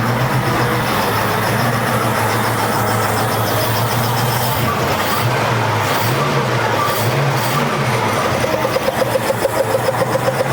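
A 1966 Ford Mustang engine runs steadily at its first start, a loud, close, continuous rumble with a slightly uneven idle throughout and faint ticking near the end.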